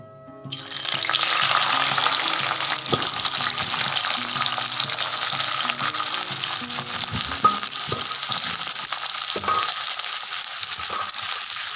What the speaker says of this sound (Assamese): তেল গৰম হৈছে আৰু এতিয়া আমি ইয়াতে পিঁয়াজ দিম